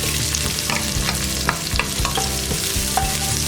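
Onions added to hot oil with garlic and ginger sizzle steadily in a pan for vegetable kurma, with a spoon scraping and stirring in irregular knocks close by; no talking.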